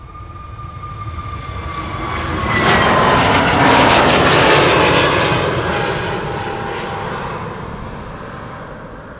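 Transavia airliner departing Amsterdam Schiphol Airport, its jet engine roar building as it approaches, peaking loudly mid-way with a whining tone, then slowly fading as it passes, with no voices.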